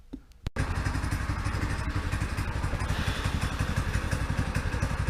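A small engine on a minibike catches after a brief cranking attempt, then runs loud and close with a steady pulsing putter and slight revving, holding its choppy rhythm to the end with no talking.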